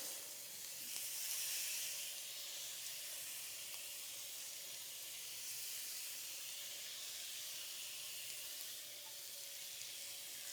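Shrimp sizzle steadily on an indoor grill pan while being glazed, a continuous close hiss that holds even across the whole stretch with no voices.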